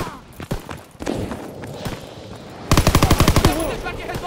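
Machine gun fire in the World War II video game Call of Duty WWII: scattered shots early on, then a loud, rapid, rhythmic burst in the second half.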